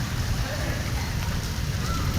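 Heavy rain pours on flooded streets in Lahore, a dense, steady hiss with a low rumble underneath, close and continuous with no pause.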